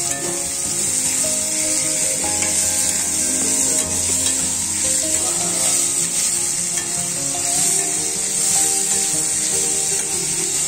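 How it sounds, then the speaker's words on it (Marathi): Finely chopped onion frying in a pan, a loud, dense, steady sizzle with faint stirring scrapes throughout and no talking. "जो तुम्ही बारीक चिरून ठेवलं होतं तो कांदा मी याच्यामध्ये घालते."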